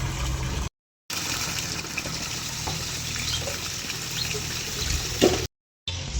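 Steady rush of water pouring into a container, continuous and fairly loud, broken by two brief silent gaps.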